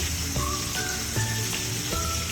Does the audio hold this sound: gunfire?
no